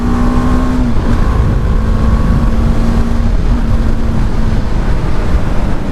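BMW G310R 2021 single-cylinder motorcycle engine pulling hard on a test ride, a steady loud drone with a rising tone that briefly dips around the one- and three-and-a-half-second marks, mixed with constant wind rush throughout.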